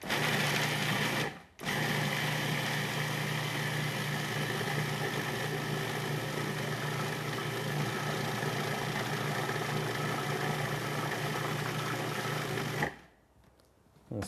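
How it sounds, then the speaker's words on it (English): A kitchen blender runs hard and steady on roasted garlic, pine nuts and herbs for pesto, a loud continuous whirring motor near the mic that cuts off briefly early on, then resumes until a clean stop near the end. "Now we're just going to blend this. We're going to pulse it until it's a nice sauce."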